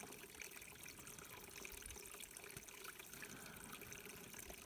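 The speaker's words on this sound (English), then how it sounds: "just use a gravity filter, fill up our water." Running, clear mountain stream water trickles and gurgles continuously during an elk-hunting camp in Colorado as water is collected for a gravity filter, a soft, close, steady flow with no voices.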